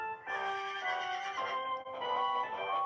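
A horse at a circus neighs loudly in a long, quavering whinny, pausing briefly before a second drawn-out whinny.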